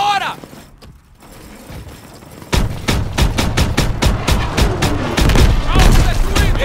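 Call of Duty WWII game combat with a rapid series of loud gunshots, sustained bursts of automatic fire after a quieter start, and voices shouting over the battle.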